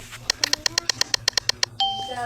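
A subscribe notification bell sound effect: a rapid series of about a dozen bright, evenly spaced metallic dings, followed by a brief electronic chime and tone.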